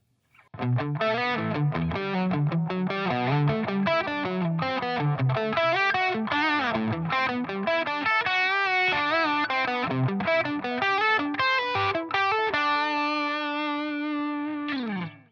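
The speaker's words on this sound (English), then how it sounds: "I like to jam on sort of low to mid gain tones with a little bit of ambience on them" Electric guitar played through a pedalboard with a low to mid gain tone and ambient reverb, a continuous run of picked notes and chords, loud and close, ending on a sustained ringing chord.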